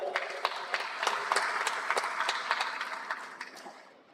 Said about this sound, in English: Now I request the August gathering to give a very big round of applause